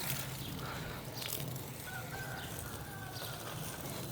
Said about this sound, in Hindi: मुर्गों की आवाज़ें सुनाई दे रही हैं मेरे ख्याल में, यहाँ भी किसी ने मुर्गे रखे हुए हैं